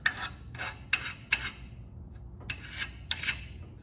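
A file chases burrs off the gaff of a tree-climbing spur in short, close, raspy strokes. About seven strokes come in small uneven groups with brief pauses between them, and no voices are present.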